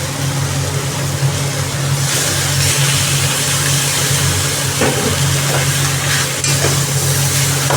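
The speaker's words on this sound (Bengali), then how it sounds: "এবার এটার মধ্যে দিয়ে দেবো আমার ভেজে রাখা মাছের মাথাগুলো" Previously fried fish heads cooking in a pan for a Bengali fish curry, a loud dense sizzle with occasional stirring scrapes, set against a steady low hum that sounds like engine noise throughout.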